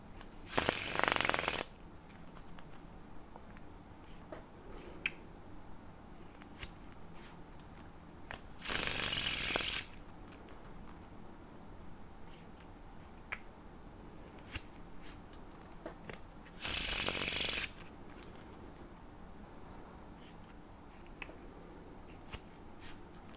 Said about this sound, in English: listening to the cards being shuffled